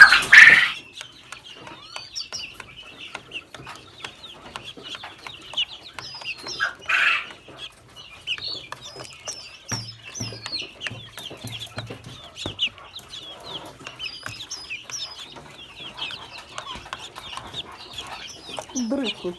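Several caged chickens cluck and chirp softly and continuously at close range, with a few louder squawks and occasional cage rattles over a quiet indoor background.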